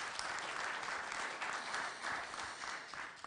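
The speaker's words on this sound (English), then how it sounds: "I would like that we applaud the speakers of this session." Conference audience at a 2018 FIA Sport Africa regional congress applauding session speakers, steady dense clapping throughout, moderately close and fairly faint, with no talk over it.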